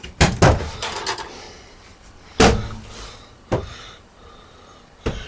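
A Dometic double-door refrigerator inside a 2011 Forest River Wildwood 29QBBS bunkhouse travel trailer is opened, giving a few close, sharp door clunks and latch thumps with quiet pauses between them.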